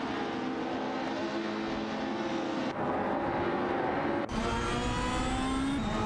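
Race cars in a racing game, a Ford Mondeo and a Peugeot 406 among them, drone with a steady high engine note, with abrupt cuts as the sound switches between cars, fairly faint and with no voices.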